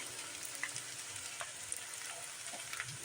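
Fried rice with soy sauce and tomato sauce is stirred in a pan. A faint, steady sizzle runs throughout, with occasional light scrapes and clinks from the spatula.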